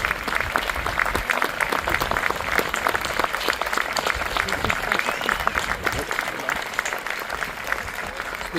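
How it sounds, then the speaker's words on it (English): An outdoor crowd at a William Davis Day memorial gathering in New Waterford, Cape Breton, gives veterans a sustained, lively round of applause, with scattered voices underneath. "give you a round of applause"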